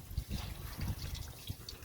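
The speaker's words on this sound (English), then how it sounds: "Might as well just give him a really good rinse off now." Water trickling and splashing as a short-haired dog named Samson is rinsed off during a bath, a soft steady stream under quiet room tone.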